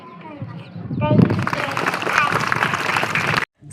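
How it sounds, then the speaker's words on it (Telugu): A school audience claps at an Independence Day celebration after a speech ends, a dense, loud burst of applause that swells and holds steadily for several seconds before cutting off. "స్పీచ్ అయిపోయాక అందరూ అలా క్లాప్స్ కొడుతుంటే"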